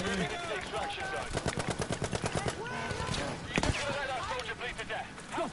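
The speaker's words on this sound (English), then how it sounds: "I'm getting shot through rocks" Dense bursts of automatic gunfire in Battlefield V desert co-op combat, a rapid rhythmic stretch of shots around the middle with scattered distant firing and battle noise throughout, no clear talk.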